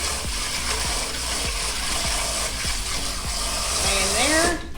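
Water gushes steadily while fresh parsley leaves are rinsed, with a regular series of soft thumps and handling noises beneath the flow, which cuts off abruptly at the end.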